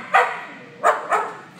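Dog barking at an animal shelter, three sharp barks at a moderate distance, one alone and then two in quick succession, over a quiet room.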